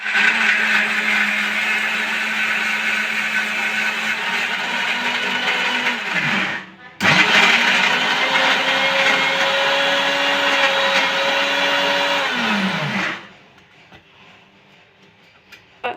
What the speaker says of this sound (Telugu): ఇప్పుడు దీన్ని మనం మిక్సీ గ్రైండ్ చేసేసుకొని పేస్ట్ చేసేసుకుందాం